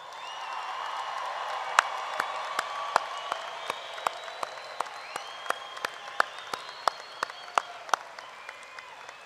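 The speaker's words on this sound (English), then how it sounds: "One more big round of applause." A large crowd at a university commencement ceremony gives a sustained round of applause, with steady clapping and sharp individual claps standing out over the general roar.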